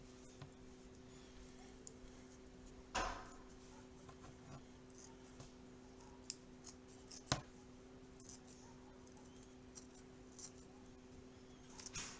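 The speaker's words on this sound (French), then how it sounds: "vous pouvez mettre des petits coups de ciseaux comme ça" A couple of sharp, isolated scissor snips cutting lace stand out over a quiet room with a steady low hum; a few fainter clicks fall in between.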